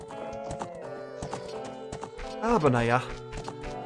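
Epona the horse from Zelda Ocarina of Time trots along with rhythmic clip-clop hooves amid game music, a whinny rising near the end while someone talks over it.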